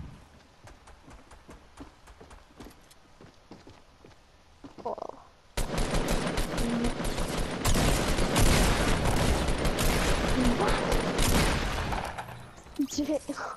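Gunfire in Fortnite: scattered shots and short bursts at first, then a loud, dense barrage of overlapping automatic fire that continues for several seconds, with excited voices talking over parts of it.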